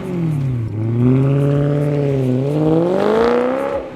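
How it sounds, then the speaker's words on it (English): A BMW M3 fitted with a full Meisterschaft catback exhaust revs up and holds high, its deep engine tone rising and sweeping through several close, loud throttle blips with no talk. "This exhaust sounds really good."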